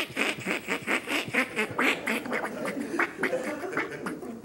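Ducks quack repeatedly in a dense, rhythmic series with a duck feed call, loud and close, filling the whole stretch without speech.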